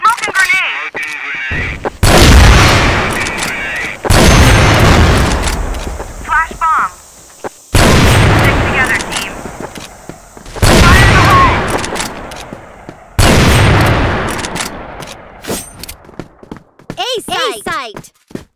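Grenade blasts and gunfire in the CrossFire shooter game, heavy broadband bursts repeating every few seconds amid continuous combat noise, with game voices calling out.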